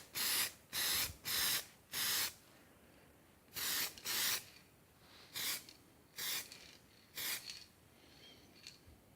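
Short bursts of an aerosol spray can of tint hit the lights of an Austin Mini van, about a dozen quick hisses in uneven groups, close but fairly soft, with no voices.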